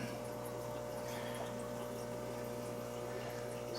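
Water flows steadily during an aquarium water change, a continuous close wash of running liquid with a pump-like hum underneath and no voices.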